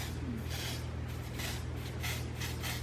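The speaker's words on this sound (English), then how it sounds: "You can just spray it" Dior Air Flash spray foundation hisses from the can in several short, soft bursts, close and quiet over a steady low background hum.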